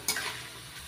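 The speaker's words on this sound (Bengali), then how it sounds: "ভিজিয়ে রাখা ছোলা দিয়ে হালকা লাল করে ভেজে নিচ্ছি। আলুগুলো হালকা লাল করে ভেজে নিয়েছি" Potatoes and soaked chickpeas frying in oil in a pan, a brief soft sizzle with a small stirring scrape near the start.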